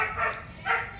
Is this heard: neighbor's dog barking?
yes